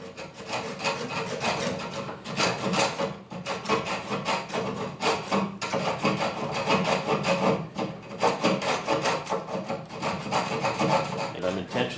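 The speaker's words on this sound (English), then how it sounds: "Japanese saws cut on the pull stroke." A Japanese pull saw cuts through plywood for a platform bed, its steady rasping strokes repeating close and loud over twelve seconds with only brief pauses between pulls.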